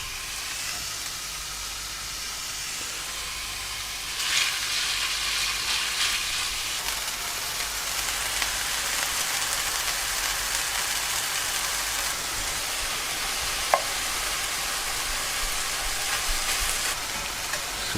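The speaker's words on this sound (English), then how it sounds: "See what I mean by browning? We want to get that nice golden brown colour on the meat." Ground meat browns in a hot pan with a steady, even sizzle and crackle that runs throughout, with one brief sharp tick near the end.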